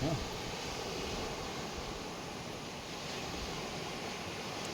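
A flooded river swollen after dam overflow rushes past in a steady, loud broadband roar of water, continuous and unbroken throughout with no other distinct sounds standing out.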